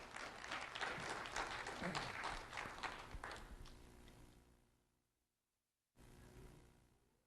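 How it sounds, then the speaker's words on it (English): Audience applause for two honored students at a school recognition event, dense clapping for about four seconds that fades out, followed by a brief gap and a short return of crowd noise. "Round of applause for Damian Sardinas and Aiden Gonzalez"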